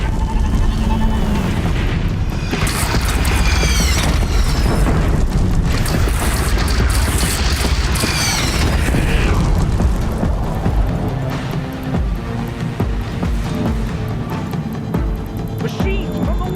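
Cannon fire and explosions in the video game Horizon Zero Dawn, heavy booms and rumbling blasts mixed with shouting and battle noise, loud and dense before thinning out toward the end.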